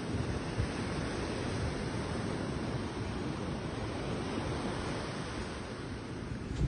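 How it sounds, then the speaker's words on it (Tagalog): Big ocean waves crash and surge onto a beach at Elyu, a steady loud broadband roar of surf with wind rushing across the microphone throughout, no voices. "ang lalaki ng alon"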